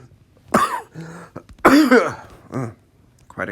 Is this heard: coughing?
yes